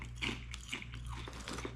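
A crispy Filipino snack made from wheat flour and cassava starch is bitten and crunched close up, with a few sharp crunches followed by chewing.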